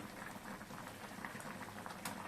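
Brinjal and dry fish curry bubbles steadily in a pot on low heat, a dense, continuous crackle of simmering liquid close by with no voices.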